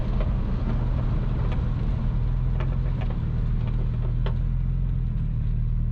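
Rear-wheel-drive Audi drift car at a raceway, its engine a loud, continuous rumble with sharp intermittent pops and crackles scattered through, heard close with no talking.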